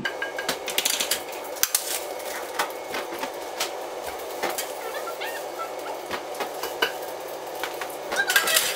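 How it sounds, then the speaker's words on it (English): Marinated vegan food is scooped back into a container with a utensil, giving close, scattered scrapes and light clinks against the container and dish that continue steadily throughout. "Now I'm just going to scoop all of this back into the container."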